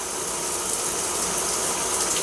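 Running water splashes while washing with Dove Men's body wash, a continuous loud hiss with a faint rattling texture through the whole short stretch, no voices.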